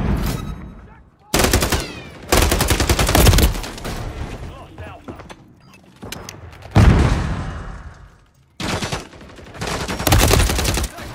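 Bursts of SVA 545 gunfire in the Modern Warfare 3 beta, loud rapid automatic strings separated by short pauses, with a few heavier booms mixed in and no talking.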